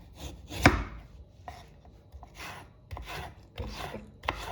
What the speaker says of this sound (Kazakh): Картоп ұсақ кубик қып тураймыз.